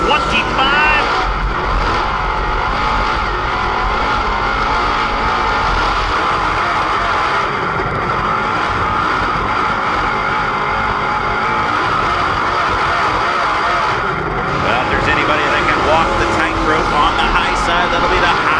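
A dirt-track race car running a qualifying lap at Fairbury, its engine roaring loud and steady throughout with rises and falls in pitch as it circles, under a track announcer talking over the PA.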